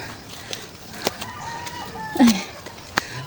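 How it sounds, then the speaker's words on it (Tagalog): Chickens cluck and a rooster crows nearby in the early morning at a beach in Grandview, Siaton, with a few short calls scattered over soft outdoor ambience. "Birds."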